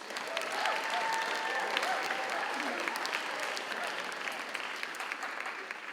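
Audience applauds school staff at a class meeting, steady dense clapping from a sizable crowd filling the whole stretch at moderate loudness, no talk over it.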